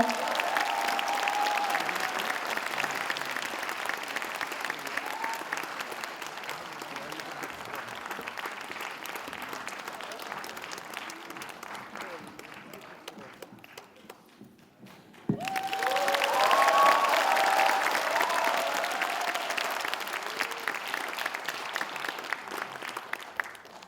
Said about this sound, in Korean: 두 분을 큰 박수로 앞으로 모시겠습니다